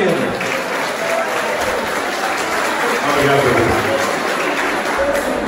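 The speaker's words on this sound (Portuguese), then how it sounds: "Uma grande salva de palmas para ele." A crowd at a village fair in Portugal applauds a singer, the clapping thick and continuous throughout with murmuring voices mixed in beneath it.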